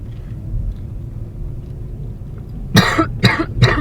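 Three sharp coughs in quick succession near the end, after a stretch of low engine-like rumble, close and fairly loud.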